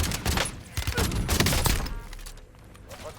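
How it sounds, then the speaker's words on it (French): Bursts of automatic gunfire and impacts from a Call of Duty Warzone battle royale match, dense and loud through the first two seconds, then fading under game ambience. "Je me fais tirer dessus."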